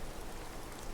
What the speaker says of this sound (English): So, this is rain.